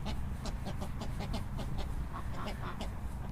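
A duck in a backyard poultry setting makes a fussy run of repeated clucking, quacking calls, moderately faint against steady outdoor background noise.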